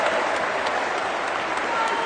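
A packed crowd at an inclusive basketball (baskin) game in Reggio Calabria breaks into steady applause and cheering after a made free throw, a dense, continuous roar that holds for the full two seconds.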